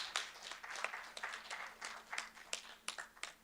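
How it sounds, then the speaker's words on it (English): Sparse applause at a board of education meeting, a handful of distinct claps spread unevenly over a few seconds, fairly faint and thin like a small group in a room. "Let's give them another round of applause"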